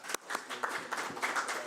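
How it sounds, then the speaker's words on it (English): Scattered clapping from a small group at a community committee meeting after a unanimous vote, a few hands applauding unevenly at moderate distance, fairly soft. "Oh, and you drew applause."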